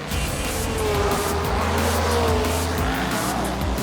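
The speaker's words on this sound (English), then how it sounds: "The lights went off and so did the racers, their cars flying down the circuit" Racing cars at a race start, engines roaring loudly with tyres squealing as they speed away down the circuit, a dense continuous rush of engine noise.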